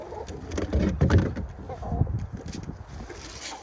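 A flock of pigeons crowds around boots on a wet, cold, rainy day, giving soft coos and scattered pecking taps and flutters close by.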